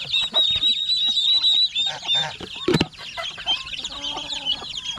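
Turkey and chicken chicks on a farm chirp in a dense, close chorus of high, overlapping peeps mixed with soft clucks, broken by one sharp thump.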